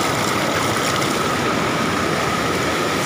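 A mountain stream near a village rushes in a loud, continuous broadband roar of flowing water, steady and close, with no voices.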